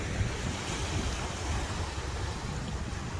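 Surf breaking with white foam over a submerged sandbar near a river mouth at Uljin, Korea, a steady broadband wash of waves with wind noise, continuous and fairly loud, no voices.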